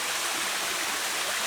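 Small river flowing through the Trinidad jungle, a close, continuous rushing and babbling of water with steady broadband hiss and no voices.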